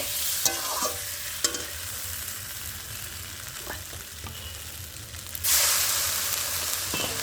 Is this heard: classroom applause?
no